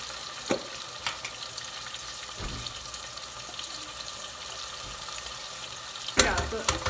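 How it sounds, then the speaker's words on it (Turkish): Tomato sauce goes into a hot pan of frying food with a sizzle, followed by stirring and clinks of a utensil, plus a louder clatter near the end. "Ben biraz şöyle domates sosundan ekleyeceğim."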